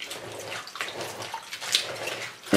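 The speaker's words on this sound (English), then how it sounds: "And rub the salt water up against the cabbage, and then I rinse the cabbage" Chopped cabbage is pressed, squeezed and rubbed by hand in a big bowl of salt water, producing close, soft sloshing and splashing with wet squelches throughout.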